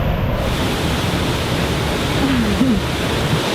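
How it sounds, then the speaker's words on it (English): Tibumana waterfall in the Bali jungle gives a steady, full-bodied roar of falling water that fills the whole moment without a break, with a faint brief tonal sound near the end. "Tibumana waterfall. It's a beautiful little hole in the jungle."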